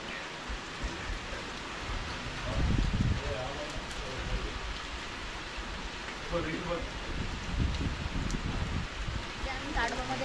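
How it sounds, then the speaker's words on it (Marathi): Heavy rain pours steadily during a wildlife safari in Tadoba tiger reserve, a dense hiss that stays constant throughout while people talk over it. "आता पण चालूच आहे पाऊस।"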